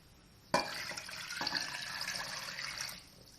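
Water pours steadily for about two and a half seconds into a mix with vinegar, a soft splashing rush, starting abruptly and then tapering off, fairly quiet with no voices.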